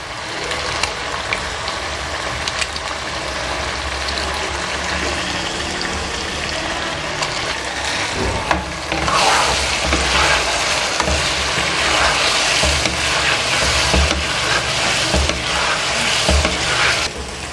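Beef karahi sizzles and fries in a pan as green chilies go in, a loud continuous crackle with stirring scrapes that swells in intensity about halfway through, no voices over it.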